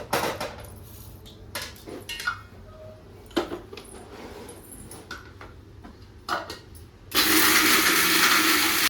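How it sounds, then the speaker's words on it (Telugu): A few clinks and knocks, then a mixer grinder grinding roasted peanuts roars to life, whirring loudly and steadily through the last couple of seconds. "చల్లారినాక మిక్సీ జార్లో వేసుకొని మిక్సీ పట్టుకోవాలి"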